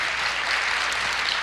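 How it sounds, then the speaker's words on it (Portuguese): A church congregation claps in a dense, continuous wash of applause, steady and moderately loud with no voices over it. "Pode aplaudir o Senhor."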